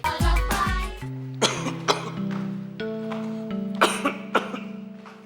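A person coughs in a short harsh burst, then gives several more separate coughs and throat clears, loud and close, over a faint sustained musical tone.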